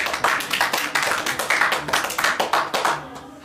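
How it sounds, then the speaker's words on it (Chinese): Audience at a student theatre performance claps together in a brisk, steady burst of many hands, close and lively, fading slightly at the end. "鼓掌。 鼓掌。"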